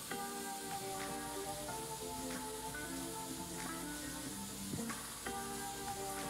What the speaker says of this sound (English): Op 4 is machining the bevel.